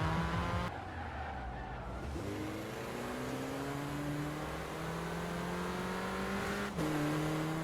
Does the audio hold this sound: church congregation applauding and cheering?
no